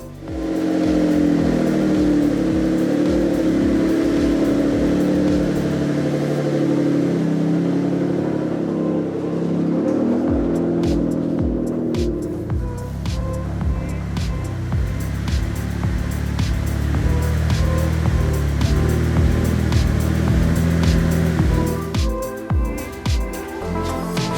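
Mitsubishi 3000GT VR4 with a widebody kit moving inside a garage, its engine running steadily and close, with rising revs and knocks and clatters from the shop toward the end.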